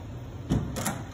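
The door of an automated shock dyno machine closing in a workshop, two brief soft thuds close together against a steady mechanical hum.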